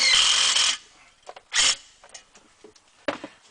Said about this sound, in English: we're going to use a self-tapping screw to do that